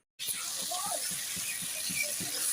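Water is poured into a pot during home cooking, a steady close splashing stream that starts abruptly and runs without a break.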